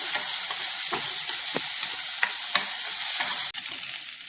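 Lai xaak greens stir-fried with a few chana in a hot pan give a loud, continuous sizzle, broken by sharp scraping strokes of the spatula every half second or so.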